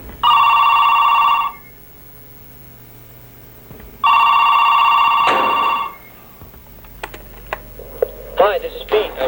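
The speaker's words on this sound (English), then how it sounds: "And then the phone rings." A telephone rings in two long electronic bursts separated by a pause, loud and close, followed by a click and quieter handling sounds as the line is picked up.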